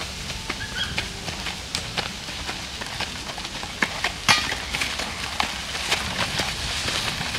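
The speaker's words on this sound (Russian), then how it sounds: "Красивая лошадка." Horse hooves clip-clop on pavement in a steady walking rhythm, close by, over a background of outdoor street noise in Kolomenskoye park, Moscow, in autumn.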